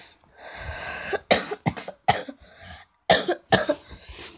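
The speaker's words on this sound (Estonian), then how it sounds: "Mul on köha ka." A person coughs several times in short, sharp bursts, close to the microphone, with brief pauses between the coughs and no speech.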